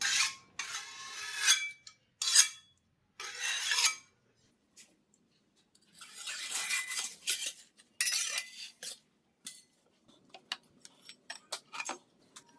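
Metal clinks and scrapes come up close as martabak, a thick Indonesian sweet pancake, is lifted out of its baking pan, with short irregular bursts of rasping and clatter separated by quiet gaps.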